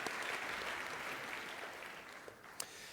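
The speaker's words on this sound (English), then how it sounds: "give each other a little round of applause that is incredibly well deserved" Audience applause at a coral reef restoration conference plenary, a steady wash of many hands clapping that holds for the whole span and thins slightly toward the end, with a few sharper claps near the close.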